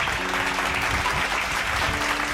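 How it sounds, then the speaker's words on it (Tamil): A church congregation applauds a speaker with dense, continuous clapping that forms a steady wash of sound from start to finish, with a faint tonal hum underneath. "கைத்தட்டுங்க ஒரு தடவை அவருக்கு."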